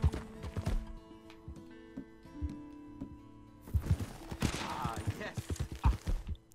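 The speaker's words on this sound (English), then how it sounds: "Oh, it's just a guy shooting." Gunfire during a shootout in Red Dead Redemption 2: scattered sharp shots early on, then a dense cluster of rapid reports near the end, mixed with horse hoof clatter and brief talk.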